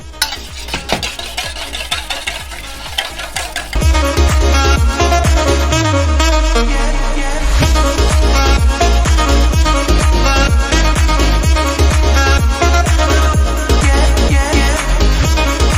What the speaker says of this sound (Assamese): আগতে কণীকেইটা অকণমান ভালকৈ ফেটি লওক।